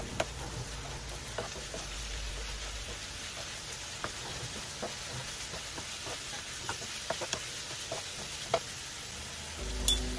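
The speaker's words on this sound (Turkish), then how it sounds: "Ve kokusu çıkana kadar kavuralım karıştırarak." Eggplant fries in a pan with pepper paste and tomato juice while being stirred, giving a steady soft sizzle with scattered scrapes and pops from the spoon, fairly quiet and close.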